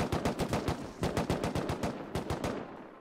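Rapid automatic rifle fire in the survival game Rust, a continuous string of sharp, evenly spaced shots over about three seconds, close and clear with no talk.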